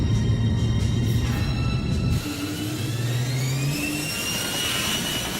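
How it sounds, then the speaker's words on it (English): Jet fighter afterburners kick in as a radio play sound effect: a loud, roaring jet engine rumble with a rising whine that shifts and climbs in pitch, sustained and close throughout. "The afterburners kick in."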